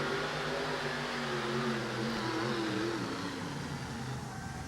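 A Gary Collins monster truck called the Boss at a 1988 USHRA Kansas City event, its engine roaring steadily with a droning, shifting pitch as it runs down the track, loud and continuous throughout.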